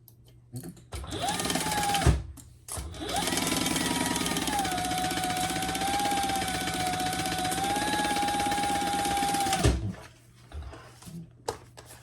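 A sewing machine stitches a pouch seam along the seam allowance: a short burst around two seconds, then a loud, steady whirring run of about seven seconds before it stops, with no talking.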